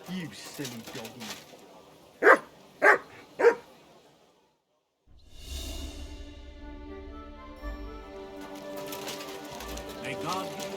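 A dog barks three sharp times in quick succession in the Kingdom Come Deliverance 2 video game, followed after a short silence by background music and ambience.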